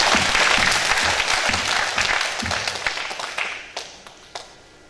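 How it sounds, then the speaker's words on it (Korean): A church congregation at a winter evening revival meeting bursts into loud, dense applause that gradually thins and fades out. "한번 하나님의 영광의 박수를 치겠습니다"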